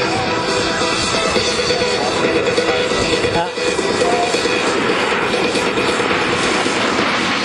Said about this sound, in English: As we said, an astoundingly beautiful airplane.